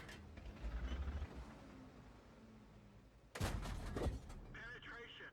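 Tank cannon fire in a tank video game: a low rumbling shot early on, then a loud sharp blast with a crack a few seconds later, followed by mechanical clanking.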